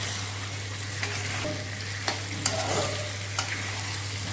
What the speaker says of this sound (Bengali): অল্প জল দেবো, অল্প কষাবো, এইভাবেই চলবে 5-10 মিনিট